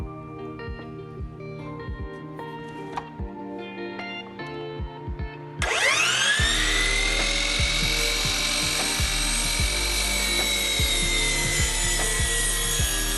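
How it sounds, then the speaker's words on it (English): A circular saw rips through wooden slats for a raised garden bed, cutting in with a sudden loud whine about halfway through and holding a steady, high-pitched buzz to the end, after quieter knocks and handling of the wood. "So this was our first experience using the circular saw."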